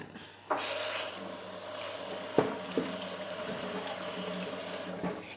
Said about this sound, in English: I'm just going to rinse that board as well